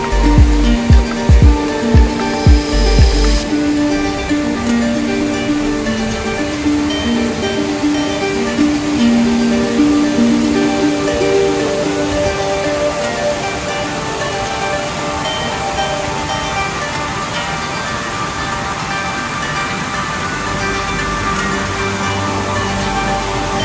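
A steady, loud roar of falling water fills the whole stretch at OS Waterfall in Araklı, with a few knocks and bumps near the start before the continuous rushing spray.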